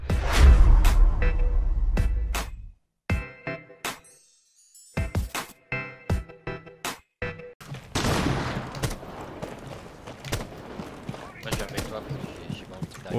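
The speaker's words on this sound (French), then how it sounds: "Donc je tire dans des trucs à la con." Gunfire in Rainbow Six Siege, a rapid string of sharp, separate shots with short silent gaps, then denser shooting and game noise under someone talking.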